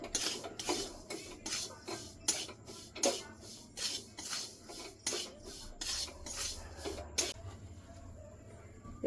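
Chhena being kneaded and mixed by hand for sandesh, a soft Bengali sweet, gives repeated rasping, rubbing strokes in a steady rhythm, close and fairly loud with no talking.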